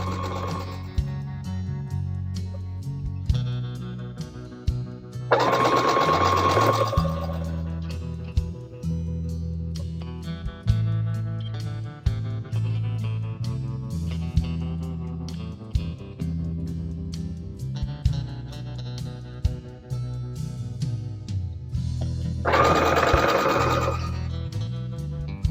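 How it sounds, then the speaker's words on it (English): A sewing machine stitches down quilt binding in a steady, close, continuous mechanical run with a rhythmic needle pulse and two brighter, louder bursts partway through; nobody speaks. "secure my stitches in place, and sew down the side as before"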